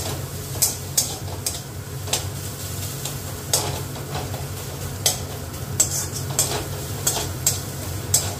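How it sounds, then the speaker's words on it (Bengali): Onions fry in a pan until reddish for a chicken dish with capsicum and coriander, with a steady loud sizzle and regular scraping clinks of a utensil stirring against the pan. "ভালো একটু লাল লাল করে ভাজতে হবে।"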